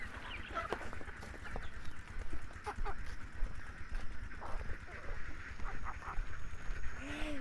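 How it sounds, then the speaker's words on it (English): Ducklings and other farm fowl quack and cluck in a busy, overlapping chorus at close range, with steady farmyard noise underneath and brief talking mixed in. "You've got to feed the ducklings first, though."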